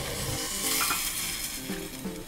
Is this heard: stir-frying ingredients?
yes